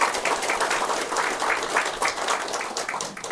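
A congregation claps in thanks during a Korean church service, steady rhythmic applause filling the room for a few seconds.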